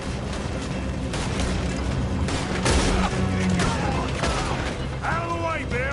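Shootout in the Western video game Red Dead Redemption 2, with loud, dense gunfire and booming shots crowding a busy mix that also carries voices shouting.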